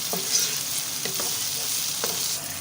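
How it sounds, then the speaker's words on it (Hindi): Chopped tomatoes and green chilies are stirred into ginger-garlic paste frying in a pan for fish curry. A steady close sizzle runs throughout, with spoon scrapes roughly every second. "अब डालेंगे टमाटर कटे हुए, सब्ज़ मिर्चें, इनको अच्छी तरह मिक्स कर लेंगे।"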